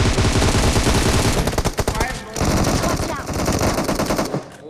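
Rapid automatic gunfire from PUBG Mobile on the Livik map, dense bursts of shots rattling loud and close with a brief lull before firing resumes, voices faintly underneath.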